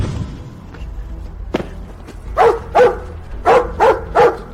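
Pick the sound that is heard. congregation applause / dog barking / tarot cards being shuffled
dog barking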